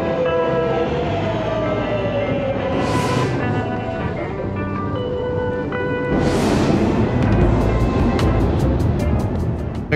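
A New York City subway train rumbles along the tracks, a loud continuous roar with squealing and rhythmic clatter building toward the end, heard up close from the station or platform.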